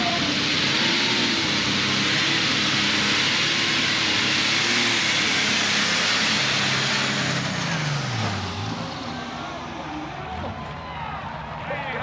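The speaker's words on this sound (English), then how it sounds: "this is one of the most powerful John Deere tractors you're going to see in the country" A John Deere 6,000 lb super stock pulling tractor roars loud and steady through a 1995 pull at Madisonville, Kentucky, its engine note sliding down near the end as the run winds off, with announcer talk over it.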